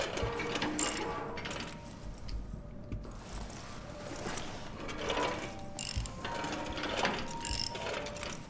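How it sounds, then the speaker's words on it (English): A wrench opening a vent in the video game Nocturnal: Somber Eclipse, heard as repeated metallic ratcheting clicks and grinding, fairly quiet and close, with a little faint talking. "now that I came here with the wrench, I can actually open the vent here"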